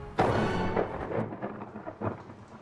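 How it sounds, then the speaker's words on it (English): Heavy rain in the UK with a loud rumbling burst near the start that fades into softer, uneven rolling noise, thunder-like and close, with no voices. "It has rained every day this year, and it's still pouring."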